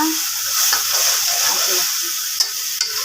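Ground ginger, garlic, chilli and cumin paste sizzles and fries in a hot pan, a steady close hiss with a few stirring scrapes and small clicks.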